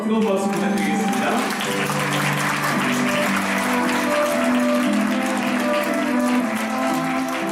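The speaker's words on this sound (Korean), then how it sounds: "잘 어울린다 생각하시는 분들 혹시 한번 뜨거운 박수 부탁드리겠습니다." A wedding crowd claps warmly and continuously throughout, with music playing underneath the sustained applause, in a hotel banquet hall.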